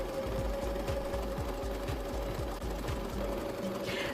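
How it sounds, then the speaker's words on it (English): A sewing machine stitches fabric pieces together, its needle thumping in a fast, even rhythm throughout, close and steady with no voices. "Now I sew these pieces to the third long piece of the main material."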